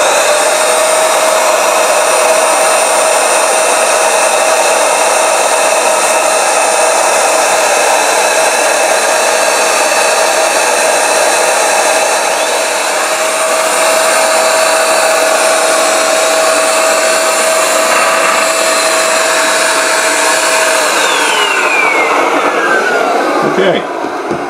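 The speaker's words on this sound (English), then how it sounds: "I've got the vacuum out, so we're just going to vacuum up this area very carefully." A loud vacuum cleaner runs continuously with a steady high whine, its pitch shifting slightly near the end as it winds down.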